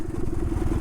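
Small motorcycle riding, a low steady engine drone with rapid pulsing, close and moderately loud, alone for under a second.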